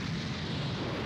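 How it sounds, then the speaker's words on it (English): A broad, rumbling blast from an explosion aimed at Frieza in the Dragon Ball Z anime, a steady roar filling the short moment with no speech. "This was actually an explosion that was aimed at Frieza"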